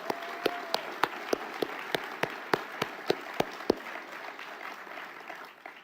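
Applause from a civic crowd at a city address, a sustained bed of clapping punctuated by sharp, rhythmic single claps near the microphone that stop before the sound fades out.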